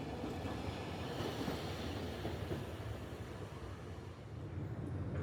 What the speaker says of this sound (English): film the trams going past the Kaikan building